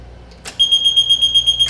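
A high water alarm horn on an ejector pump control panel sounds as a steady, piercing electronic tone, loud and close, running continuously after a brief click, with no talking.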